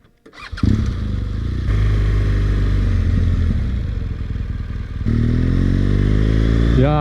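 A BMW R1200GS motorcycle engine revs and pulls steadily during a ride, loud and close, with rising and falling engine tones and continuous wind and road rumble throughout.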